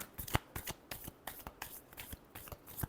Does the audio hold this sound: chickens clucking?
no